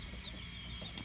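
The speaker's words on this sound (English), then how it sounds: "These are white crested Polish bantam chicks." White crested Polish bantam chicks peep in a backyard coop, a quick series of high, thin chirps close by over a faint background hum, with no talk.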